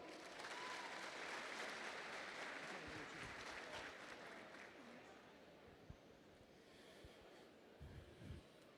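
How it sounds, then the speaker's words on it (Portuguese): A room full of people gives a round of applause for a law professor at a legal event, sustained, even clapping that gradually thins toward the end with a few louder claps. "Uma salva de palmas."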